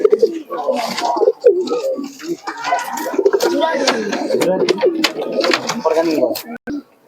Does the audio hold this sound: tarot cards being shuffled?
no